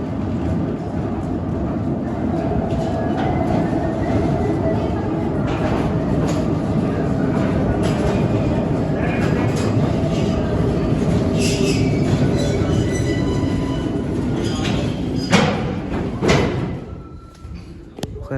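A train at Khewra railway station gives off a steady, loud rumble of rail cars. The rumble carries on throughout with occasional clanks and squeaks, and it grows more uneven toward the end.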